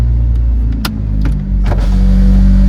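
A Honda Civic with shorty headers and a catback exhaust idles with a deep, throaty exhaust rumble, close and steady, with a few brief clicks and taps over it.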